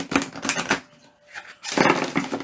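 Tarot cards being shuffled by hand, two bursts of crisp riffling clicks separated by a brief quiet pause, close and fairly loud with no talking.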